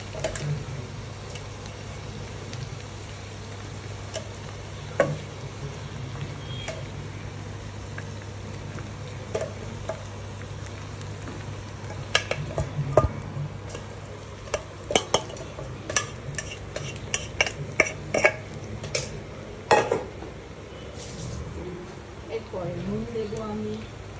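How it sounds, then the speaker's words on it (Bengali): Rice added gradually to a cooking pan for herb rice, with a low frying hiss under steady talk and scattered spoon clinks and scrapes that grow busier toward the end. "এবারে আমি রাইসটা আস্তে আস্তে এর মধ্যে দিচ্ছি।"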